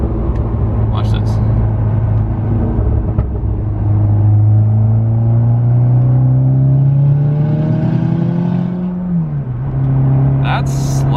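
Turbocharged, oil-burning MK6 VW Golf R pulling hard at full boost: a loud, close engine drone rising steadily in pitch over several seconds, then dropping sharply at a gear change before climbing again, with brief high whooshes and no talk.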